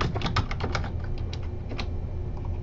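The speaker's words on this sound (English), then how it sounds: "Down here in the text box, this is where you can just type information." Keys clatter in a quick burst, then slower scattered taps, as text is typed into a web page text box on a computer keyboard, close and alone without talk.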